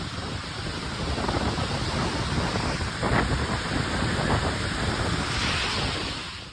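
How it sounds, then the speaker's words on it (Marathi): Heavy rain in Pimpalgaon pours down in a dense, steady roar that stays loud and unbroken throughout, with a slight gusty swell near the end. "खूप जोराचा पाऊस आलेला आहे"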